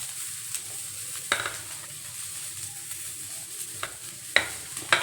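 Garlic, cumin and ginger frying in a pan for a capsicum dish, a low soft sizzle under several sharp clicks of a spoon stirring against the pan.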